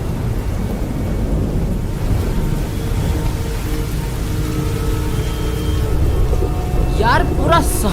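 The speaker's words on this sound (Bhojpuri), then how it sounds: "बारिश भी आ गई" Steady rain pours down through a nighttime street scene in a Bhojpuri film, with thunder rumbling low underneath; the wash of rain stays constant and loud throughout, and a few brief chirping sounds rise near the end.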